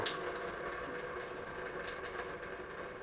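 Water flowing continuously in a steady, even rush like a running tap or pump, close and unbroken for the whole stretch with no talking.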